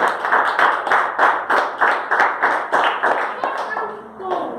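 A church congregation claps in rhythm, with steady, loud, evenly spaced hand claps from many people, while voices sing or speak over the top and a melodic line rises near the end.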